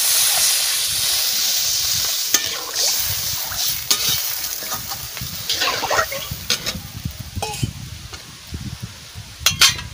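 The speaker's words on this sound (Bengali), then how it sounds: "আমি জল ঢেলে দিচ্ছি।" Water poured into a hot pan of fish curry with green mango sends up a strong hiss and bubbling that slowly settles, broken by scattered clinks and stirring knocks near the end.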